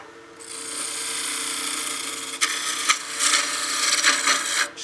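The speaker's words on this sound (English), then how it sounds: "I'm going to switch back to my spindle roughing gouge" A spindle roughing gouge cuts a spinning wood blank on a lathe, giving a steady, close, broadband rasping hiss with sharper scraping bursts toward the end.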